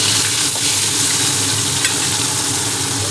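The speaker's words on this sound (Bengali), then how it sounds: "ভেজে নিই এই আলু আর বেগুন" Potatoes and eggplant fry in a pan in a steady, close, even sizzle that holds loud and unbroken throughout, with no voices.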